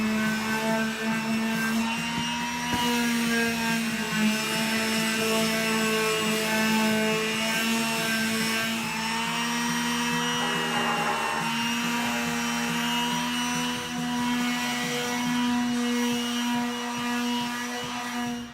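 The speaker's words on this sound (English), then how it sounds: "Let's get back to sanding." Steady power sanding of a wooden utility table, a continuous whirring grind with rising and falling scrape as the sander moves over the wood, loud and close with no talking.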